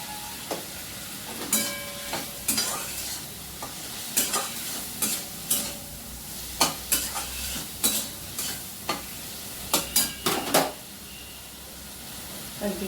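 Dried red chili stir-fries in a pan under a continuous sizzle, broken by a dozen or so sharp, close spatula clacks that come in irregular bursts.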